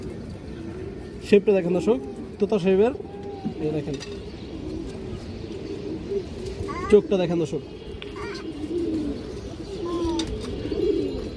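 A pure-bloodline silver pigeon gives a few low coos close by while someone talks over it.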